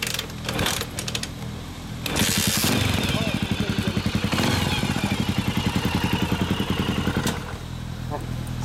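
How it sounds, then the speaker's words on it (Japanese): Honda CB400SS NC41 single-cylinder motorcycle with a Moriwaki exhaust, kick-started and then idling with a close, loud, rapid thumping beat, some clatter, and people talking nearby. "エンジン音聞かせて"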